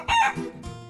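A big white rooster crows once, close and loud, its call rising and then trailing off over about a second with no talk.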